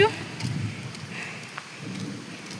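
Steady rain hisses in the background with faint low rumbles, close and continuous, no talking.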